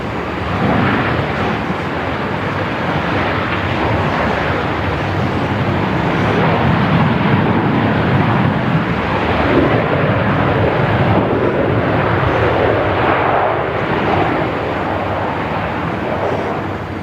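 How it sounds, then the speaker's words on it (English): A United airliner rolls for takeoff on runway 34 at Melbourne Airport, a steady, loud broadband jet roar that holds for the whole stretch without pause. "United 61, runway 34, cleared for takeoff."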